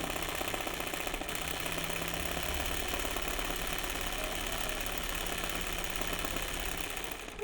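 A sewing machine stitching a wide zigzag over a hole during free-motion embroidery, its mechanism whirring and clattering in a fast steady rhythm throughout, close and moderately quiet, without any talk.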